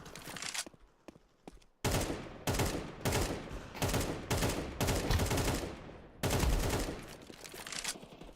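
Rapid automatic weapon fire in a video game, loud and close, coming in repeated sustained bursts with brief gaps and a few scattered single shots early on.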